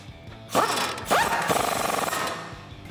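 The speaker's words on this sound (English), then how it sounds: "What we can do now is reconnect our sway bar end link with that 17 millimeter socket and 17 millimeter nut." A ratchet with a 17 mm socket drives a 17 mm nut onto a sway bar end link on a 2016-2020 Toyota Tacoma, giving a couple of close mechanical bursts and then a steady run of quick, even clicks.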